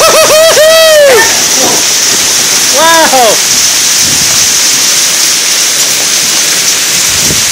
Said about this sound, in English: Look at all the hail that's coming down.